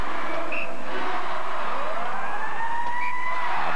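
At a 1997 Montreal Canadiens hockey skills contest, a siren signalling the end of time sounds as faint, sweeping wails over a steady arena hiss.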